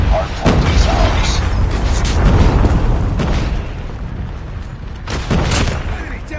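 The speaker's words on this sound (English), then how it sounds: "Hostile predator missile inbound." Heavy explosions and booms in a Call of Duty–style multiplayer shooter, a loud rumbling blast followed by further thuds and sharp impacts, close and powerful, mixed with game battle noise.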